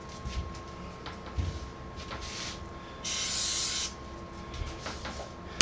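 CA glue activator sprays onto a maple bowl in a short, steady hiss near the middle, with quiet workshop shuffles and a faint tone in the background.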